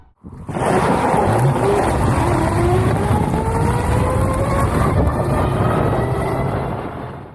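An electric motorcycle in the 125-equivalent class rides past, with a steady whine and whooshing road and wind noise that swell quickly, hold for several seconds, then fade.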